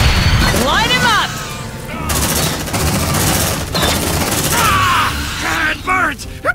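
Gunfire and an explosion erupt in the sci-fi game Aliens: Dark Descent, a dense, loud fusillade with mechanical clatter and booms, while voices shout over the battle.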